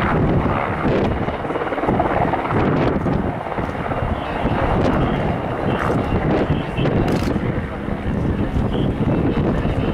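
Loud, continuous rotor roar and wind buffeting from a nearby military helicopter during a Polish Armed Forces Day medical evacuation demonstration, steady throughout with no pauses.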